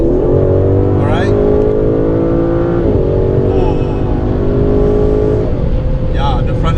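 A 2017 Aston Martin DB11 engine pulls hard at full throttle, a loud steady harmonic drone climbing in pitch with shift-like breaks, while people talk over it inside the car.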